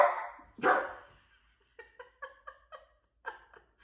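A new puppy named Clark lets out a few short yips in a quick, uneven series after some breathy laughing sounds, faint and close in a quiet indoor room.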